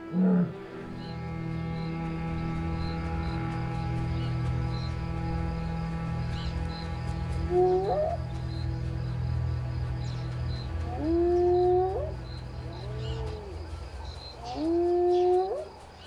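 A young lion calls out alone in the savanna at night, several rising, moaning cries spaced a few seconds apart over a steady bed of insect drone and low rumble.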